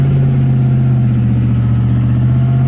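A pickup truck engine hums steadily from inside the cab while driving through mud, a low, constant drone with slight rises in revs.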